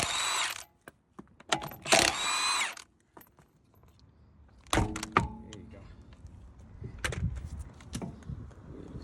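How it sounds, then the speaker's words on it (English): Pneumatic impact gun with a 17mm socket taking off a wheel on a Peugeot 3008, loud rattling hammering bursts separated by pauses, with clunks and handling noises close by. "Using a 17mm socket with an impact gun."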